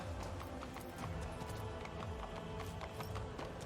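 Horses shifting near a large locked gate in the game Rogue Trader, with steady clip-clop hoof steps repeating throughout over a continuous ambient bed, moderately near.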